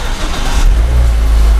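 A Mazda 2 engine runs loud and close with a deep rumble that swells as the car revs, steady and without talk.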